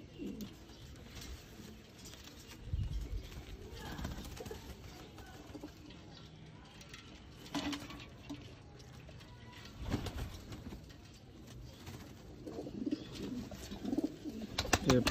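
A Teddy bloodline pigeon coos in repeated soft, low bursts, close and fairly quiet, with a few louder coos spaced across a calm background.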